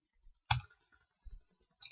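Computer mouse clicking in a calendar app: three short, crisp clicks spaced across a quiet background, with a louder click near the start and softer ones after it.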